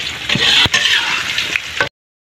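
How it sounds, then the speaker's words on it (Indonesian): Sliced shallots frying in hot oil for an Indonesian dish, a close crackling sizzle with a few sharp stirring knocks before it cuts off abruptly. "Kemudian kita goreng bawang merahnya."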